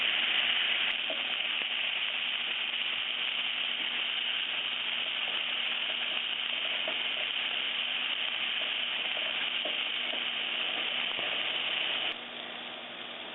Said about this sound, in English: We're just going to cook these until the mushrooms are tender.